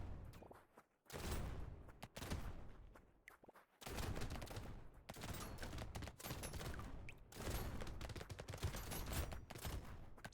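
Rapid SMG fire in the video game Brotato, dense crackling bursts that run almost without a break across the wave, loud and busy, with short pauses near the start and again just before four seconds.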